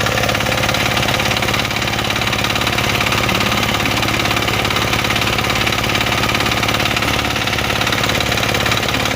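A small mini tiller engine idles steadily and loudly up close, with a constant chugging rattle and no voices.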